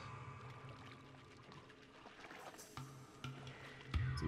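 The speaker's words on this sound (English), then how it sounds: "So you dump out one of the potions" A potion pours out of a flask in the pixel-physics game Noita, a faint liquid trickle and splash over quiet game ambience, ending with a slightly louder slosh.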